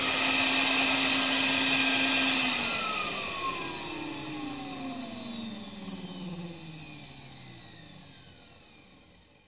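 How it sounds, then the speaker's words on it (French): A vacuum cleaner sound effect from the children's game Adibou whirs loudly, its motor pitch sliding downward as it winds down and fades over several seconds, with no other sounds. "L'aspirateur."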